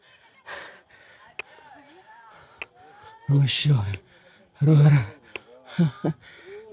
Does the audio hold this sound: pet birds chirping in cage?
no